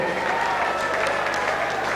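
Crowd applause at a boxing bout for boxer Byron Gallagher, dense clapping from a large audience that holds steady and loud from start to finish.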